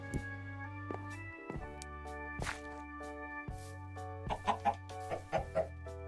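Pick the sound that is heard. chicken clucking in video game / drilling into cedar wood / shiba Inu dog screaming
chicken clucking in video game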